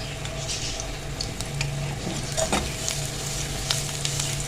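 Five finely chopped garlic cloves fry in a little oil in a pan with a constant close sizzle, broken by occasional scrapes and clinks of stirring. No one speaks.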